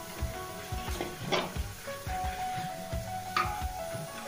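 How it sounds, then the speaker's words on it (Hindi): Gravy is poured into a sizzling pan of softened tomatoes and onions, with steady frying crackle, stirring scrapes and a couple of brief louder splashes, for a restaurant-style paneer lababdar. "मक्खनी ग्रेवी डाल देते हैं"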